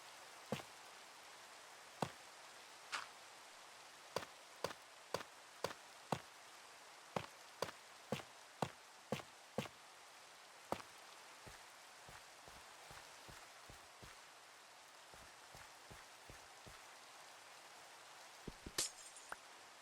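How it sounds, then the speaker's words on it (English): Steady, faint rain hiss from the video game Minecraft fills the background while sharp, distinct clicks land in an irregular series over it, thinning out toward the end. "it's already started to rain"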